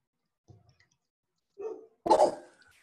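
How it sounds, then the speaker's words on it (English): A dog barks a few times in the background of a video call, one short bark followed by two louder, sharper barks close to the microphone, with no talk over them. "Your dog started my dog."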